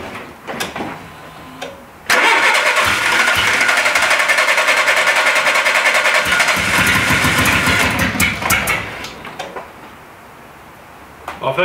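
A wrecked Citroën Saxo car engine cranks and catches, then runs loudly and roughly for several seconds before cutting out, with short clattery bursts before and after.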